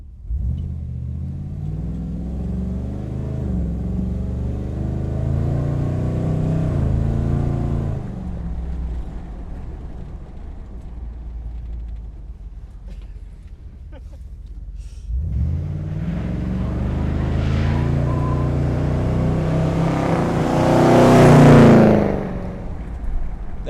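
A car engine rumbles and revs while driving, swelling in two long surges with the second climbing louder and higher before easing off, close and steady with no talking.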